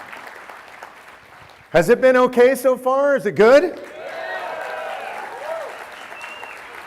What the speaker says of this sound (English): So give yourselves a big round of applause from me.